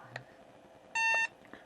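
A Hobbymate D6 DUO PRO battery charger gives one clear, steady electronic beep lasting about a third of a second as its jog wheel is held down. A few faint clicks sit around it, with no other sound.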